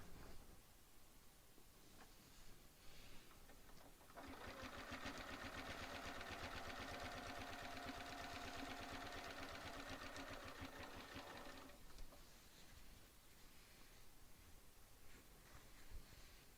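Domestic sewing machine running steadily as it stitches quilt binding, a fast even whirring chatter for several seconds, starting and stopping cleanly with quiet handling sounds around it.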